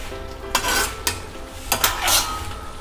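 A metal lid is set onto a pot of chicken dum biryani, giving several sharp close clanks and clatters against the rim over a low steady kitchen background.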